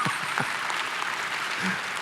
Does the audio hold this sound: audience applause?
yes